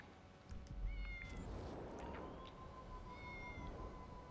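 A cat meowing, a couple of faint, drawn-out meows and a short mew over a quiet hiss of background noise, no talk.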